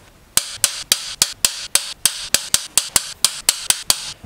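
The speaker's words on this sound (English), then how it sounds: "Now I'm gonna do the lengthy procedure of torquing all the cylinder head bolts." A torque wrench on the cylinder head bolts of a BMW E34 525td diesel engine gives about sixteen sharp, evenly spaced metallic clicks, loud and close with no talk.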